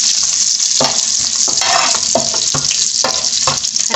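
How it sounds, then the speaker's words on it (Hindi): Chopped onion and green chilies frying in a pan of oil for Gujarati-style masala bhindi, a steady loud sizzle broken by repeated stirring scrapes, with no talking. "हरी मिर्चें और ये जो अनियन हमने काटा हुआ है प्याज जो, इसको हम ऐसे करके हल्का सा इसके अंदर फ्राई कर देंगे"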